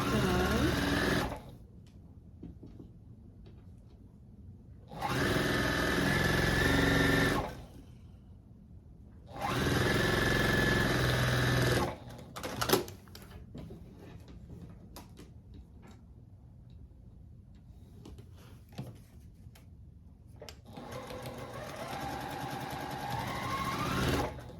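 A sewing machine stitches a quilt block in three steady whirring runs, close and moderately loud, with quiet pauses and soft handling noises between, then a lighter mechanical hum toward the end.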